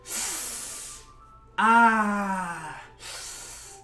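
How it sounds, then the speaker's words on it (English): A sharp, hissing breath drawn in through teeth in the Doki Doki Literature Club Plus video game, heard as three breathy bursts, the middle one louder with a voiced, groaning tone. "A sharp inhale, like something is sucking the air through her teeth."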